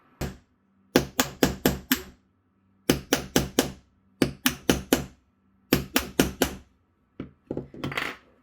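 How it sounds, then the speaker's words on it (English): Sharp, ringing metallic hammer strikes on a punch, angled to cut out a circle, come in quick bursts of four or five, pausing between each group, close and loud. "hammer on an angle and just kind of punch around to get out as much of that circle as possible"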